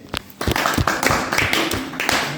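Audience at a sales seminar clapping, a dense burst of hand claps that starts after a few scattered taps and keeps going evenly, fairly loud and close.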